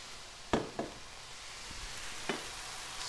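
Ground beef and vegetables in a pan for a sweet potato shepherd's pie, with a low, steady sizzle under a few sharp spoon scrapes and knocks as everything is stirred together, faint and close with no voices.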